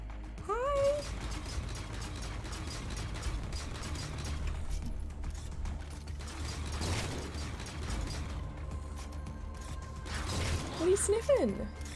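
A pet cat meows a few times, close and clear at the start and again near the end, over mechanical whirring, clicking and ratcheting sounds from a Halo Spartan Ops video game session.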